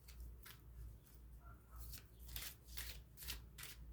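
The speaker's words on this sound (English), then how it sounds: "Just shuffle it to get a different energy to it." A deck of cards is shuffled by hand in a quiet room, with a series of soft riffling bursts and flicks that grow a little louder toward the end.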